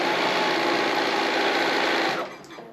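A sewing machine stitches quilt pieces together with a scant quarter-inch seam, a fast, steady whir of needle strokes heard up close that stops abruptly near the end, with no talking.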